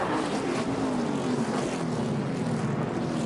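Stock car engines drone at a short track after a big wreck on the front stretch, a steady mid-distance roar with one engine pitch sliding slowly downward, and no talk.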